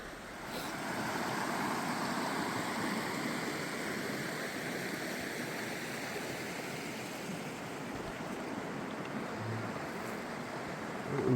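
River water flows steadily along a rocky bank in Pocahontas County, West Virginia, a continuous broadband rush that stays loud and close with no voices throughout.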